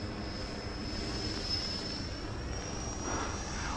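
A 3D-printed RC Saab Viggen jet with a 90mm electric ducted fan flying overhead, giving a continuous high-pitched whine over broad rushing air noise, steady and moderately distant.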